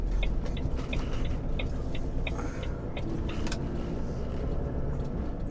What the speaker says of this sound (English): There's a car behind me, is it coming in here?